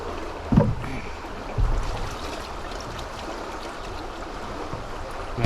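A kayak moves through river water with gentle steady splashing and rippling, marked by a few louder thumps and sloshes of paddle or hull, close by with no talking.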